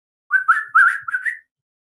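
Series of short melodic whistles, rising and warbling, in several quick bursts close by, like a bird or person whistling back, with no talking.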